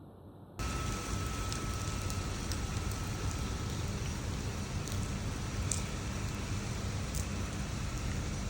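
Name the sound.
rain falling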